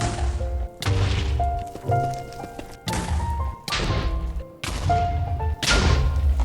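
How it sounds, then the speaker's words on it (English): Repeated heavy explosions of beds in Minecraft, six or so loud booming thuds spaced roughly a second apart, each followed by brief ringing tones and clatter. "now cue the bed exploding montage"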